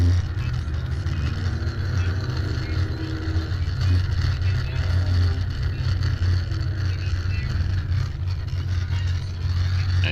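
Race cars circle during a 75-lap endurance race at Cedar Lake Speedway, a steady, droning engine roar heard from a distance with little change in pitch, continuous throughout.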